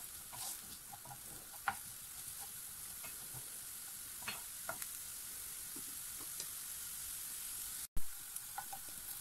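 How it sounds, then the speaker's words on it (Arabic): Onion frying in a pan until browned, a soft continuous sizzle and crackle heard close, with occasional faint stirring ticks and one abrupt sharp knock near the end. "ندير فيها هذيك البصله ونخليها تحمر"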